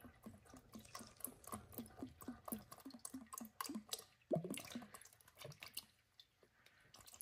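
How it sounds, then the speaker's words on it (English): Motor oil glugging as it pours from a bottle into a 2019-2024 Toyota RAV4 engine during an oil change, a rapid run of wet gulping pulses up close, steady for several seconds before thinning out near the end. "I think oil should glug when you put it in, right?"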